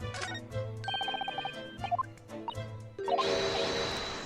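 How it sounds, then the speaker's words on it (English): Bird call played back on a recording in The Great Ace Attorney Chronicles courtroom game, a rapid run of bright chirping notes over game music, followed by a louder noisy burst. "Bird? I need to hear it again."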